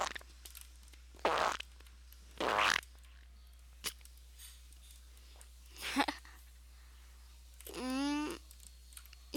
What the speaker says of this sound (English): Used to make such funny fart noises.